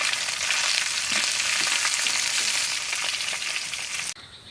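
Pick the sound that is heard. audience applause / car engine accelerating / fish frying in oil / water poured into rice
fish frying in oil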